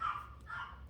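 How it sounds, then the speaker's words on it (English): A dog barks once up close, a short sharp bark with a slight whine, heard alone in an indoor room. "Sorry, that's my dog."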